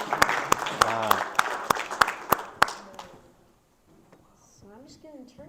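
Audience clapping at a youth leadership conference, a few seconds of loose, fairly near applause with several sharp individual claps standing out, fading to near silence before faint talk resumes.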